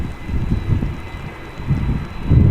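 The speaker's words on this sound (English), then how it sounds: "rain is continuing still" Steady rain falls outdoors at Amsterdam Schiphol Airport, a continuous hiss mixed with gusty wind buffeting the microphone and low rumbling swells.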